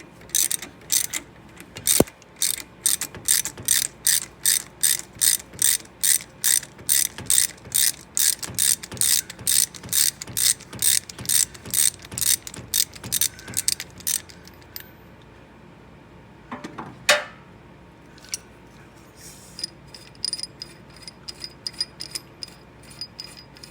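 A ratchet works a three-jaw puller loose on the harmonic balancer of a Dodge 5.9L engine, clicking in a fast, even run of sharp ticks for about fourteen seconds, then a few scattered clicks and clanks, close and clear.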